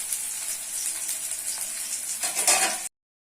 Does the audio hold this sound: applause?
no